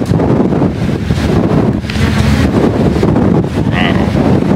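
Strong wind buffets the microphone in a constant roar, with faint talk buried underneath.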